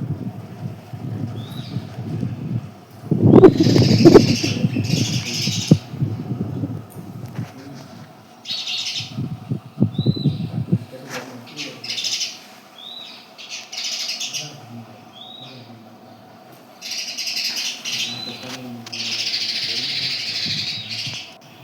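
Sparrows chirp near a relative's house in the early morning, with repeated bright chirps in bursts across the stretch. Another bird calls now and then, and there are brief, louder bumps and some background noise but no clear talking.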